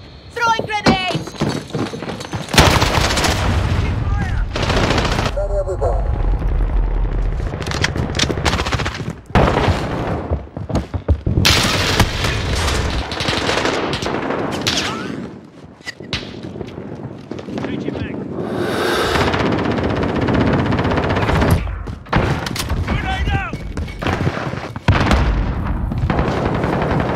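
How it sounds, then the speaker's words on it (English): Grenade blasts and rapid gunfire from Call of Duty Modern Warfare team deathmatch play on PC, with loud bursts and booms recurring throughout amid game voice callouts. "Flash out! Throwing grenades!"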